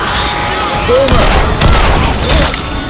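Dense gunfire in a zombie shooter video game, a continuous chaotic clatter of shots with overlapping voices and game effects.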